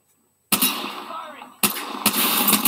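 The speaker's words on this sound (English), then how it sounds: "Shots fired!" Gunfire in the Apex Legends battle game, with loud broadband bursts starting suddenly after a short silence, dense sustained shots and a second sharp volley near the end.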